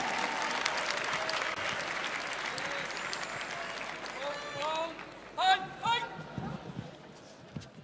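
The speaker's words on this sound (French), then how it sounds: "Le quatrième et dernier round, sous vos applaudissements s'il vous plaît." Applause fills a hall before the final round of a boxing bout between Eva Guillot and Nawel Vanweyenberg, then fades as a bell, squeaks and shouts take over.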